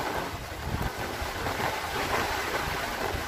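Strong wind from typhoon Odette roars steadily in a broad, rushing wash of noise, buffeting the microphone close up, with no voices.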